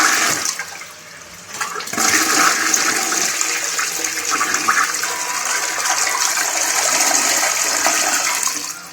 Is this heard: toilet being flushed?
yes